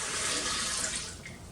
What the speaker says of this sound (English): I've just put 4 cups of water